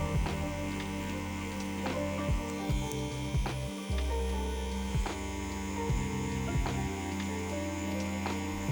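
A tattoo machine with a Magnum needle shading a rose design, giving a steady electric buzzing hum with faint rhythmic ticks, continuous and close throughout with no talking.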